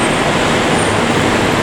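Steady roar of buses and road traffic at Pudu Sentral bus terminal in Kuala Lumpur, a dense, continuous broadband rumble with no voices.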